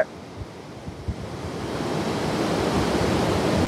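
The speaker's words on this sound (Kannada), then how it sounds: "ತುಂಬಾ ನೀರು ಹೋಗ್ತಾ ಇದೆ" A powerful, continuous roar of water rushing from opened dam gates builds quickly and holds steady and loud, thundering nearby.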